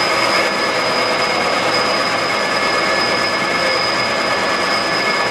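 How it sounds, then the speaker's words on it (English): Steady, continuous whir of a milling machine spindle running at around 800 RPM during edge finding, a loud even drone with a constant high whine and no speech. "On edge finding, we want to set our spindle speed to around 800 RPM."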